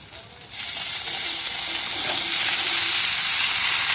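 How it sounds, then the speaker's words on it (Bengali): Washed vegetables hitting a hot kadai, a quiet start that bursts into a loud, close, sustained sizzle and steamy hiss that keeps building. "এগুলো এখন আমি কড়াইতে দিয়ে দেব।"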